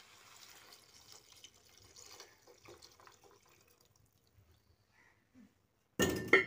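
Water poured into a pot of oil-fried vegetables for vegetable biryani: soft, sparse clinks of cookware give way to a sudden loud, close rush of pouring water in the final half-second, with no talking.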